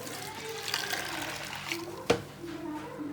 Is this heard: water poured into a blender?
yes